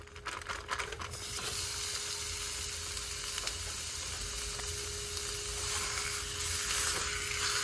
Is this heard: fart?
no